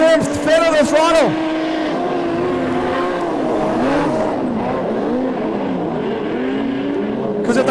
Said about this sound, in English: You can hear them feather the throttle.